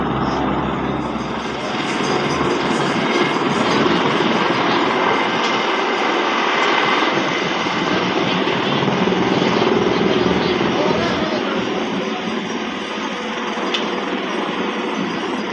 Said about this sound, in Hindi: देखो कितनी आराम से हेलीकॉप्टर उतर गो सवारी बैठी जा रही